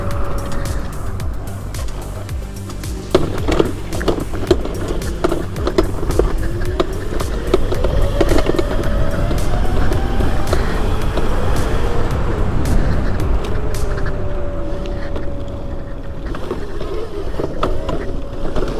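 A 6000W Razor electric vehicle rides off-road at full throttle, a loud, continuous motor whine with a rising and falling pitch over rough rumbling and rattling from the terrain, close and steady for the whole stretch.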